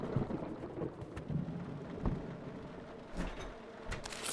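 Steady rain pours in the horror video game Deadcam, with rolling thunder rumbling underneath and a sharper crack near the end.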